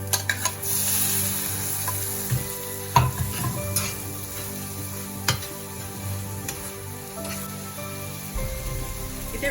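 Okra curry with yoghurt and masala fries in a frying pan, a steady sizzle broken by scraping stirs and occasional knocks of a spoon against the pan.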